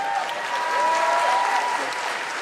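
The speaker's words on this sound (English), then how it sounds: "And the sound of elderly fans clapping" A Comic-Con panel crowd of fans applauds in a hall, an even, continuous wash of clapping with faint voices mixed in.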